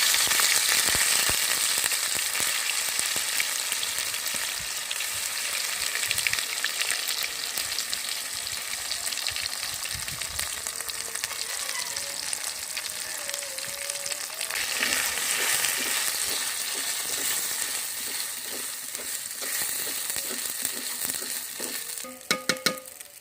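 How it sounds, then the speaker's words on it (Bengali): A sweet corn mixture fries in hot oil in a wok, giving a loud, continuous crackling sizzle throughout, with occasional stirring noises and a few sharp clatters near the end, no voices. "এবার তেল গরম হয়ে গেছে, এবারটা এটা ছেড়ে দেব।"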